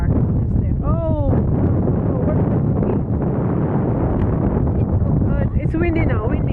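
Strong gusty wind blows outdoors at a fishing spot near a parking lot, a loud continuous roar buffeting the microphone, while voices talk and call out over it.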